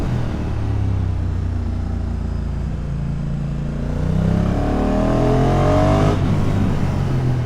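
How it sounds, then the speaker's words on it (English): A 2022 Honda NT1100 motorcycle rides along a road in Spain, its engine and exhaust rumbling loud and steady, rising as it accelerates, with wind rushing past. "What do you think of that exhaust note?"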